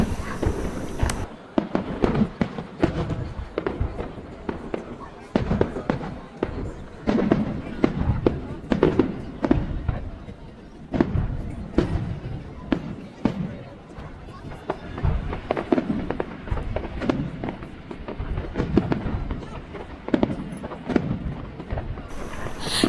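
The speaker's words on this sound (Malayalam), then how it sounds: "അപ്പോൾ നമുക്ക് ഈ ഫയർ വർക്ക്സ് കണ്ട് സന്തോഷിക്കാം." New Year fireworks burst over the Hunter River before a packed riverside crowd, a long dense run of sharp cracks and booms at an irregular rapid rhythm, fairly close and loud, with people talking underneath.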